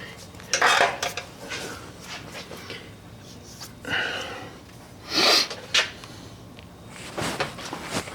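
Metal transmission pan on a 1954 Chevy being handled and fitted, giving a few sharp metallic clanks and scrapes in scattered bursts, close up, with quiet gaps between.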